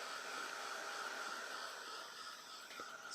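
A handheld dryer blows on texture paste over a stencil on a mixed media tag, a steady close whooshing hum for about three seconds.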